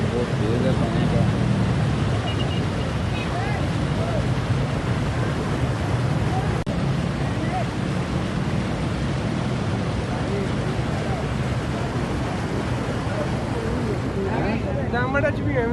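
Fast-flowing floodwater rushing through flooded streets in Lahore, a steady, loud broadband roar of churning water and wind noise that holds constant throughout, with voices talking over it.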